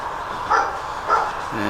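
Dogs bark twice in quick succession near a covered bridge on the edge of town in Pennsylvania, medium distance over a steady background hum.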